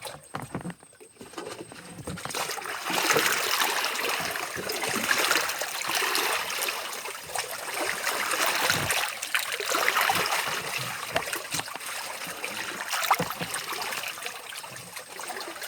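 Fertilizer is stirred by hand into standing water for hydroponically grown Chinese cabbage, a steady close-up sloshing and swirling that continues throughout with small splashes.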